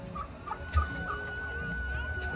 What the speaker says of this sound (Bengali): হ্যাঁ দেখো কত রকম প্রজাতির মুরগি আছে,